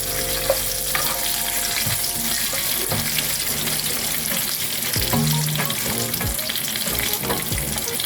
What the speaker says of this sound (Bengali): আর আস্ত জিরা দিয়ে একটু ফোড়ন দিয়ে দিচ্ছি।